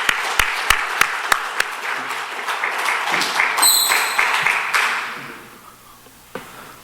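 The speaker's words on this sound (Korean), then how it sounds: "뜨겁게 박수로 맞아주시기 바랍니다." A church congregation applauds to welcome a speaker, with a few sharp loud claps at the start over general clapping that swells, then dies away into quiet room tone with a stray thump near the end.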